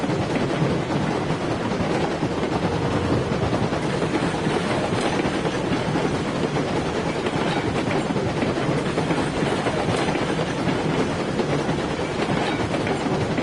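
A locomotive in a video game rolls steadily along the track, a constant loud rumble with faint clickety-clack that never lets up.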